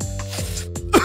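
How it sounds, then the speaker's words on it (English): A few short coughs and sniffs from a video game character, close and dry, with the last cough the loudest. "He just sniffs and then coughs."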